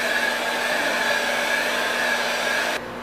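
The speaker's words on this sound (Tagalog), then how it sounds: "Habang binoblow dry ko tong aking mga brushes para makapag-film na ako ng makeup tutorial" A hair dryer blows steadily while makeup brushes are dried, a close, loud, continuous whirring rush with a faint whine that cuts off abruptly near the end.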